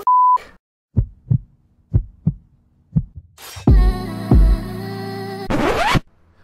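A heartbeat sound effect starts after a short beep: loud, close double thumps repeat at a steady pace. Layered electronic noise and a rising sweep then build up over the final beats.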